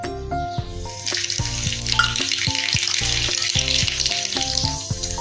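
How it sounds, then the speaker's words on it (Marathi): Cumin and mustard seeds sizzle in hot oil in a small tadka pan, a bright crackling fry, close and steady, with background music playing over it. "तडका पॅन मी आपल्या साईडला काढून घेतलेला आहे, त्याच्यामध्ये आपण जिरे आणि मोहरी टाकणार आहोत।"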